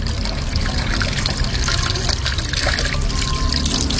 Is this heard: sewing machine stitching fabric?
no